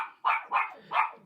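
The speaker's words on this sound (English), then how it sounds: "I apologise for the dog barking." A dog indoors gives three quick, fairly close barks in an even rhythm, with no talk over them.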